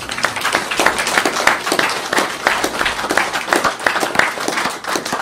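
An audience claps in sharp, uneven bursts at an evening event, loud and close, with the claps swelling and thinning across the few seconds and no talk over them.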